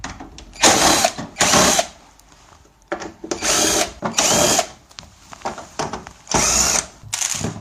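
A power driver whirs in short bursts, removing screws from the filter guide of a one-way ceiling system air conditioner, with about six separate loud spins and quiet gaps between them.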